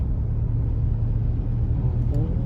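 A Skylab three-wheeler tuk-tuk engine rumbles steadily and close up while riding on a road in Laos, a continuous low drone with traffic wash throughout.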